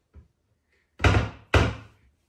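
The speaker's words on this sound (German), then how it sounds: "Jonah, wollen wir die Türen bitte zulassen?" Doors are shut in a house: a faint bump, then two loud, close thuds of doors closing in quick succession, with no talking.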